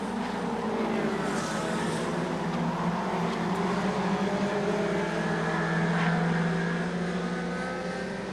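Super short track race cars race toward the checkered flag, their engines making a continuous, loud, layered drone with shifting pitches from several cars running close together.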